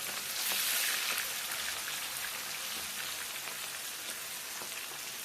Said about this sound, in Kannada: ಬಾಣಲೆಯಲ್ಲಿ ಫ್ರೈ ಮಾಡ್ತಾ ಇರ್ತೀವಿ.